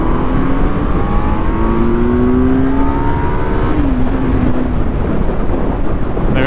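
A 2023 Kawasaki Z900 motorcycle accelerates hard from about 40 in third gear, its engine note climbing steadily in pitch, then dipping briefly at a shift before pulling again, loud and close under heavy wind rush.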